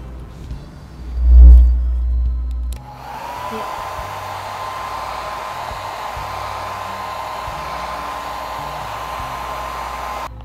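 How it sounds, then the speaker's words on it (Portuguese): After a dull thump, a hair dryer switches on and blows with a steady, close, loud whir for several seconds, drying stencil paint on an MDF craft box. "Eu vou acelerar com o secador."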